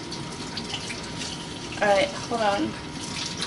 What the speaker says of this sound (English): I'm going to try to give it warm water so I'm not shocking the roots.